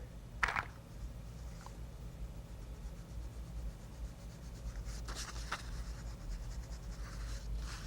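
Crayon rubbing on paper, soft, faint scratchy strokes against a quiet steady background hum, with a few sharper scrapes near the start and middle.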